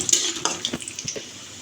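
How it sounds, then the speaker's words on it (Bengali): Cashews and pistachios stirred in hot white oil in a pan, with a few close, sharp metal scrapes and clinks of a spatula over a soft background sizzle. "এবার দিয়ে দেব কিছুটা কাজু বাদাম, পেস্তা বাদাম। তো ভালোভাবে নেড়ে চেড়ে ভেজে নেব।"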